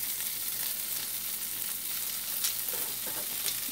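Homemade chicken nuggets frying in a pan, a steady close sizzle with soft crackles and pops throughout, with no voices.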